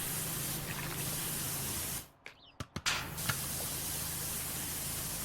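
A pressure washer sprays in the video game Powerwash Simulator, a steady loud hiss that cuts out briefly near the middle and then resumes.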